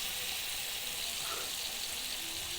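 Noodles with soy sauce sizzling and being stirred in a frying pan: a steady, faint hiss of frying with a few soft scraping stirs, no voice.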